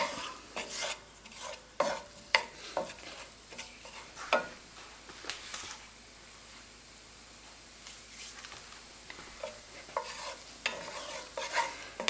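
Finely minced garlic sautéing in a pan for sloppy joes, steady frying hiss under frequent clicking, scraping stirs of a utensil against the pan, close and fairly loud, with no talking.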